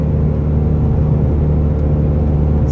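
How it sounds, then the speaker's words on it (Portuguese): A Honda Civic 2.0 LXR's engine drones steadily as the car accelerates uphill, a continuous low hum with road rumble and no voices. "Olha acelerar agora na subida."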